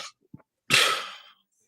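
A single loud sneeze bursting out after a short intake of breath, fading quickly into silence.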